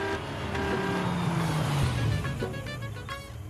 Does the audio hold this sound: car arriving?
yes